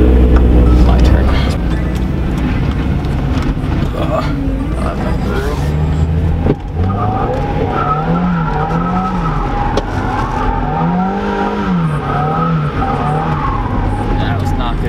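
A Mazda Miata with an open differential skids, its tires squealing in long wavering bursts over a loud revving engine, with people talking nearby.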